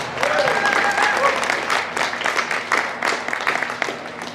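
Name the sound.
audience applause for the cattle show exhibitors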